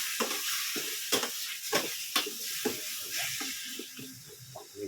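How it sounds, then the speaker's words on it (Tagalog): Food sautéing with pepper in a hot pan for chicken tinola, a steady close sizzle with a string of scraping stirs and clinks from a spatula. "Lagyan na kagad ng paminta habang ginigisa"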